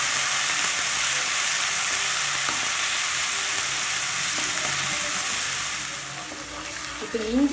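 Ginger garlic paste frying in oil on a low flame for restaurant-style paneer kurma: a steady, loud sizzle and hiss with faint stirring scrapes, easing slightly near the end as a voice briefly starts.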